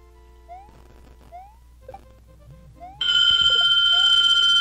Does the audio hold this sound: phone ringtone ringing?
yes